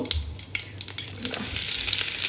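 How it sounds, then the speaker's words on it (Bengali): Dried chillies hiss in hot olive oil as dal is tempered, giving a close, busy sizzle with quick spatters and a few stirring scrapes throughout. "এখন শুকনো মরিচ দিয়ে এটাকে বাগার দিব"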